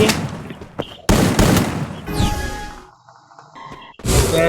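Gunshots from a mobile battle royale match fire in loud, close bursts, with whooshing effects and short gaps between volleys.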